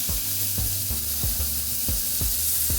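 Flank steak searing in a hot pan, a loud steady sizzle with a regular series of low thumps at roughly half-second intervals and a faint hum beneath.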